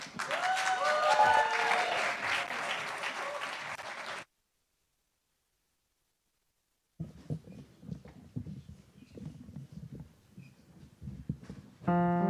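Audience applause for a singer at a live music venue, The Bedford, loud and sustained for about four seconds before cutting to silence, then quieter room noise and a burst near the end.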